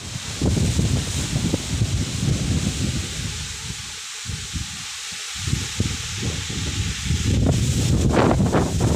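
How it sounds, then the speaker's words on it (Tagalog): Heavy typhoon rain and gusting wind pour over rice paddies in a continuous loud wash, dipping briefly midway before surging back stronger at the end. "lakas ng ulan at saka yung hangin."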